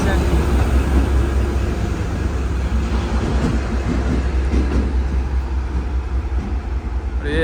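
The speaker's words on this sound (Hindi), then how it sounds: "और ये ऐसे लोकोमोटिव शेड में ला खड़े कर दिए जाते हैं।" A diesel locomotive rumbles inside a Pakistan Railway locomotive shed, its steady low engine drone continuing unbroken and fairly loud throughout, with someone talking over it.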